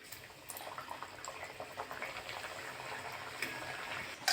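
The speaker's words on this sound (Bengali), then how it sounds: "বাকিগুলো আমি একইভাবে ভেজে নেব" Flour khaja sweets sizzle while frying in a pan, a soft continuous bubbling hiss with a few faint clinks, fairly quiet and without talk.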